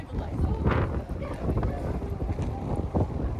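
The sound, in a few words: wind blowing outdoors on a windy downtown street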